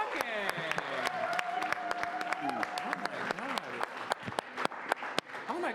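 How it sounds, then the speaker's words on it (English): Audience applause follows a late-night show performance, a continuous patter of many hands heard at a moderate distance, with a host's voice and other chatter running over it throughout. "Hey, give them a round of applause."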